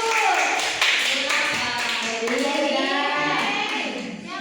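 Classroom applause for a student group during a teaching simulation, a burst of quick hand claps mixed with children's and adults' voices talking over it, fairly loud and close.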